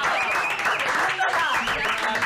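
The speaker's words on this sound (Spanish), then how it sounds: "Un aplauso a Marcos." Studio audience applause on a radio show, a short, loud wash of clapping with whoops or whistles rising above it.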